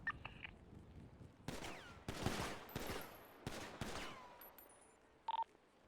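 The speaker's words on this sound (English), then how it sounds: "I want you guys all to let off 1 shot." Separate single gunshots crack one after another at a target in a video game. There are several sharp, close reports, spaced irregularly, with short echoing tails and quiet gaps between them.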